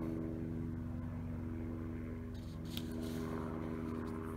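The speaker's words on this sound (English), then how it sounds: "I wonder if you can hear that helicopter going overhead." A helicopter passes overhead outdoors, heard as a steady, low, droning throb with a faint rhythmic rotor pulse, continuous and fairly distant throughout.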